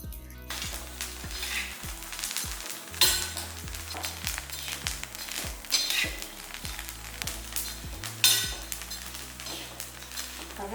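Black kavuni rice dry roasting in a pan, giving a steady soft sizzle and rustle with irregular clinks and scrapes of a stirring spoon against the metal throughout.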